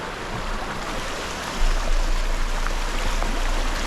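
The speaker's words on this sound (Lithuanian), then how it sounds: "Tie upeliai nesustoja niekada." Mountain streams run along the Tour du Mont Blanc trail, making a steady, dense rush of water that is loud and unbroken from start to finish, with no voices.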